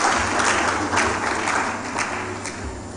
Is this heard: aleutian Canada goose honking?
no